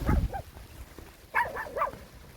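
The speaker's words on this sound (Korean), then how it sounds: "자주 보는 강아지네요." A dog outdoors on a rainy day gives a short burst of yips and barks, a gap, then another quick series of three barks, fairly close against light background noise.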